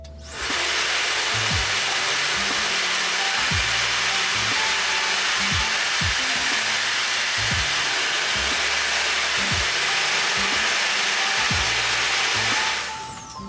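A small fan is blown on to spin it, giving a loud, close, continuous rushing of breath against the blades with rough, irregular low thumps underneath, holding steady for about twelve seconds before stopping.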